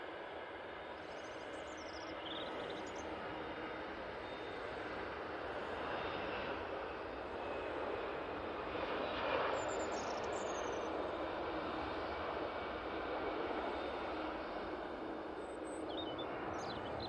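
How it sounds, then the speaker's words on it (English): An EasyJet Airbus A320-200 rolls for takeoff at Manchester Airport, bound for Barcelona, heard as a steady, distant broadband jet roar that swells gently mid-clip and holds throughout. "This EasyJet now on the roll is off to Barcelona using their"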